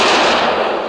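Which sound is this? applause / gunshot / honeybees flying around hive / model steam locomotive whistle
gunshot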